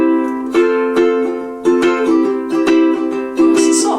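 A ukulele strummed with a soft felt plectrum gives a warm, rounded strum with gentle attacks and no clicking, several strokes in an even rhythm, played alone without talking.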